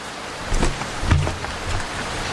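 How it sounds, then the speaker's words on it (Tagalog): Rain falls outdoors as a dense, constant patter, with a few louder low thumps rising through the steady wash. "naabutan pa rin ako ng ulan"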